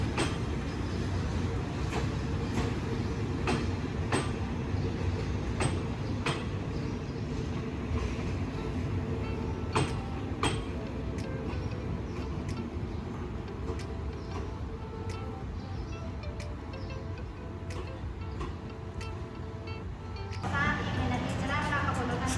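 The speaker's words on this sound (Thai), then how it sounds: "ขบวน 957 ต้นทางกรุงเทพหัวลำโพงปลายทางลบบุรีนะครับ กับขบวนรถนำเที่ยวฮิฮะ 183" A long Thai excursion train, number 957 from Bangkok Hua Lamphong to Lopburi, rumbles steadily by with repeated wheel clicks and rail clatter throughout, fairly close, while someone talks over it.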